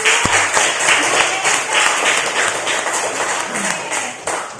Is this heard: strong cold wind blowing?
no